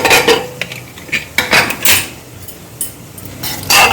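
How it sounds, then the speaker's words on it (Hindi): Metal clatters and clanks while a pressure cooker full of cooked pav bhaji vegetables is opened, with pots and utensils knocking in an irregular run of sharp hits and scrapes, close and loud. "और हम कुकर खोलेंगे।"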